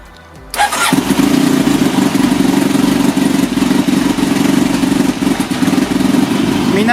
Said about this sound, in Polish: Teraz rozgrzeję silnik.